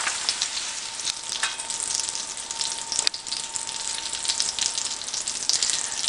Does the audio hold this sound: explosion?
no